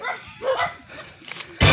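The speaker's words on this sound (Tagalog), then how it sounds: "May aso din." A dog barks a few times at moderate distance over outdoor background noise, ending in a sudden loud burst of noise.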